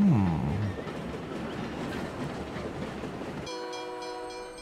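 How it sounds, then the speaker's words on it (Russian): A train pulls into a station in the video game SteamWorld Build, a rumbling, rattling approach that swells at the start, then cuts to a steady game tone in the last second. "на станцию прибыл поезд"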